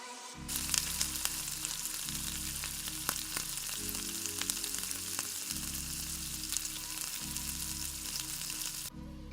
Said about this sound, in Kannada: ಇದಕ್ಕೆ ಇವಾಗ ನಾವು ಮ್ಯಾರಿನೇಟ್ ಮಾಡಿಟ್ಟಿರೋ ಅಂಥ ಪನ್ನೀರ್ನ ಹಾಕ್ಕೊಂಡು ಚೆನ್ನಾಗಿ ಫ್ರೈ ಮಾಡೋಣ.